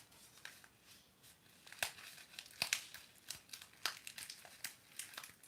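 A tea package being torn and opened by hand, close crisp crinkling and tearing of plastic wrapping in irregular bursts, quiet overall, with no talk.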